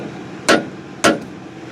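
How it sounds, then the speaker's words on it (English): Three sharp metallic strikes from a soft pull hammer on the track plate of a Case IH tractor, spaced about half a second apart, close and loud with brief ringing decay and no talk. "You might have to use a soft pull hammer to move forward."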